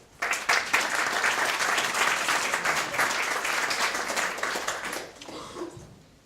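An audience at a World Asthma Day talk breaks into sustained applause, a steady wash of many hands clapping that holds for about five seconds before tapering off quickly.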